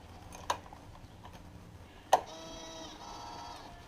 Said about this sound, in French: la valve fait son petit tour sur elle-même